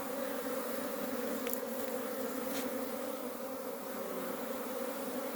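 Honey bees hum at a beehive during swarming season. A steady, dense buzz holds throughout at low volume, with a couple of bees passing close by.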